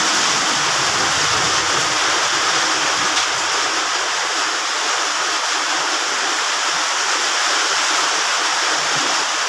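A dense, steady roar of pouring rain fills the whole stretch, loud and unbroken, like a heavy downpour close by, outdoors in the fields at the end of Buddhist Lent.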